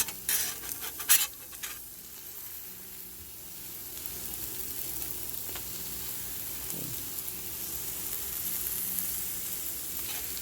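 A pork chop sizzles on a Blackstone griddle outdoors, a continuous broadband crackle and hiss held for several seconds, with a few sharp clatters of a spatula near the start and no talking.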